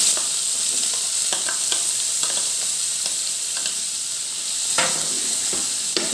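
Fried vegetables are added to a pan with reddened onions and stirred for an Assamese thali, giving a continuous close sizzle broken by repeated scraping stirs, with no talking.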